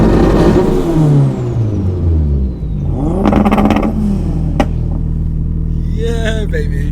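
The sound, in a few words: tuned sports cars revving at drag race start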